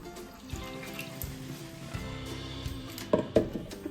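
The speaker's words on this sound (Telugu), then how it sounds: "దాంట్లో కొంచెం వాటర్ పోసుకొని" Water is poured into a pan of ground tomato masala while cooking an egg curry gravy, giving a soft, steady trickle that is faint and continuous, with a low tonal hum in the background.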